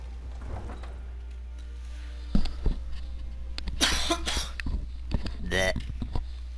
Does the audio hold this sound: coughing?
yes